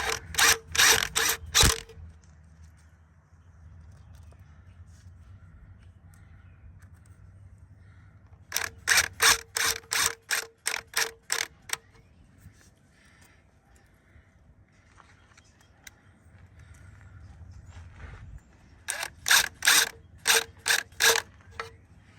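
A ratchet wrench snugs bolts during an oil pump replacement on a 2014 Dodge Journey 3.6, heard as three separate bursts of quick, crisp clicking with quiet gaps between them.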